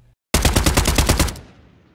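After a brief silence, an AK47 rips off a fast automatic burst of roughly a dozen loud, evenly spaced shots, trailing into a longer booming outdoor decay across open ground.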